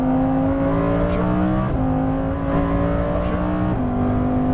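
Lamborghini Huracan Performante engine accelerating hard on a racetrack, its steady loud roar rising in pitch with two clear upshifts that drop the tone before it climbs again.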